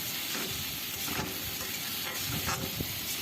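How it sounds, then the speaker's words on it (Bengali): Food frying in a pan with turmeric and salt added, a steady close hiss and sizzle with faint stirring clicks throughout. "এবার এটাকে আমি ভালো করে ভেজে নেব"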